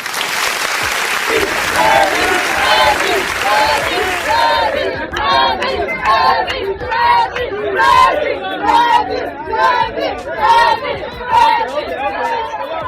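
Audience at a community association's executive board presentation applauding and cheering the president, steady loud clapping with shouts and lively chatter building across the whole stretch, close and crowded.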